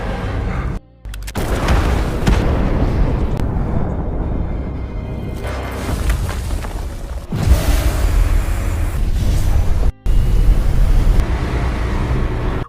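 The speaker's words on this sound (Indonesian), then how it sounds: "Ketika salah satu anggota tim memasang peledak dan meledakkan pesawat tersebut" Explosives blow up an aircraft in a war film, heavy booming blasts and rumbling debris filling the track, with brief sharp cutoffs between repeated loud detonations.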